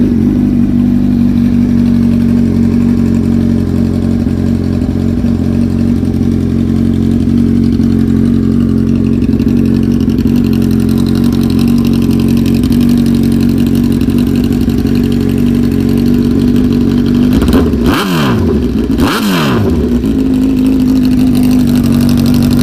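A Honda CBR 1000 sport bike with 26,883 miles, a steering stabilizer and shorty levers idles loudly and steadily close by. Near the end come two brief throttle blips that rise and fall.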